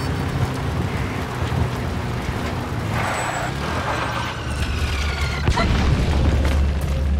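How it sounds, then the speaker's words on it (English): Mortar explosions boom in the Metal Gear Solid 5 game, a continuous rumbling barrage with low booms and a sharp blast near the end over steady noise like rain. "Well, they tried to mortar her position."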